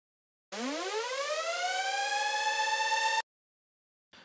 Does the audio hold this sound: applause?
no